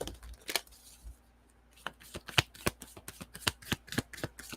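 Moonology oracle cards being shuffled by hand, a close run of crisp riffling flicks and soft slaps, with a short quiet pause before a fast, steady burst of card snaps.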